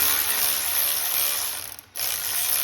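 A 1/4-inch Allen wrench backs out the brake caliper keeper bolt on a truck, giving a steady close grinding, ratcheting rasp that dips briefly near the end and then resumes.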